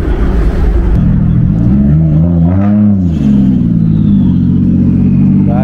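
A Toyota RAV4 car drives past on a street in Japan, its engine rumble swelling loud and close as it passes, then easing off while traffic noise continues.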